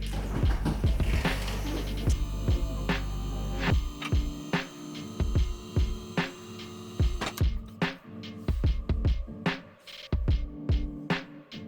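A QuickJack hydraulic car lift raises a Corvette C8 Z06 in a home garage: a steady electric pump hum with whirring throb runs for several seconds, then stops, leaving intermittent clicks and knocks of the lift settling.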